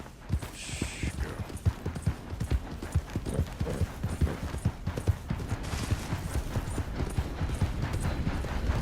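Hooves of a horse clip-clop in a steady trotting rhythm on ground in Red Dead Redemption 2, close and continuous, with brief soft spoken words to the horse.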